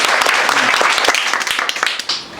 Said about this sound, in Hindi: एक बार ताली हो जाए